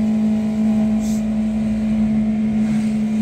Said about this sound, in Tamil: ஆர்பிஎம் மட்டும் ரைஸ் ஆயிருக்கு.